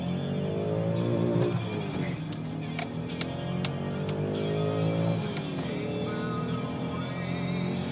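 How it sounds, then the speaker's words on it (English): A 2001 BMW M5 engine accelerates hard from close by, its rising rev sweeps climbing twice with a drop between, a steady loud drone filling the whole stretch with no talk over it. "Pull out here, I'll give it a little gas."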